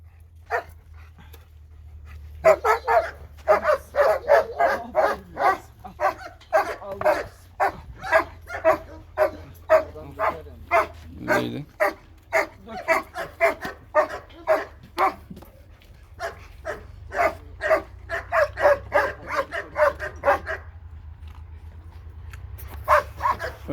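Several dogs bark repeatedly at feeding time, loud and close, in bursts of sharp woofs and yips with brief pauses, some panting between barks.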